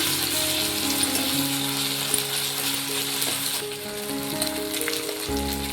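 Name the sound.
crushed ginger and garlic sautéing in oil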